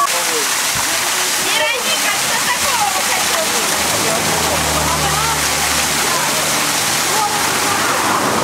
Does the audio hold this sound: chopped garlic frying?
no